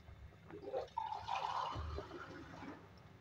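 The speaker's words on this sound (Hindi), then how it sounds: "अब इसमें पानी ऐड करेंगे।" Water pours into a pan of browned aloo chicken curry with a soft, close splashing and trickling that lasts a couple of seconds.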